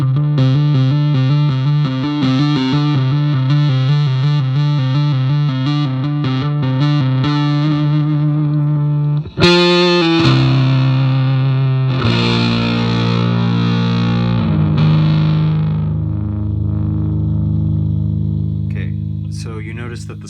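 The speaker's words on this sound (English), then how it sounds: "this knob only introduces distortion into the signal" A hardware effects unit's distortion knob is turned up while an instrument keeps playing, the tone growing louder, grittier and more saturated, with sustained chords continuing after a brief dropout midway.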